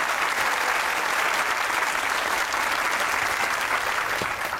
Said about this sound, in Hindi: बहुत ताली बजाए रजा और वकास की